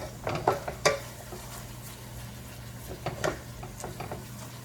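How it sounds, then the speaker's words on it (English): About a teaspoon of garlic sautés in a pan over medium heat, a faint steady sizzle under the sharp scrapes and taps of a utensil stirring it around. "there's about a teaspoon of garlic in there, and you just want to kind of saute it around in there"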